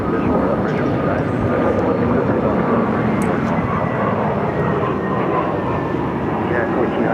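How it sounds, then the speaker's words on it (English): A United Airlines Airbus A321 jet airliner departing Phoenix airport roars loudly and continuously, a broad steady engine rumble filling the whole stretch, with talk faintly beneath it. "It's United Airlines Flight 1400 headed to Chicago O'Hare on an A321."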